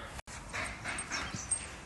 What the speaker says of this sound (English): Got all sorts of breeds, sizes of dogs come down.